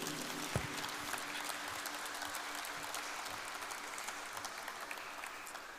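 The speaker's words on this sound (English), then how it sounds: "I think that deserves a round of applause." An audience at a St. Peter's College rugby sponsors felicitation ceremony breaks into applause for the sponsors, a steady, moderately distant clapping that holds evenly and tapers slightly at the end.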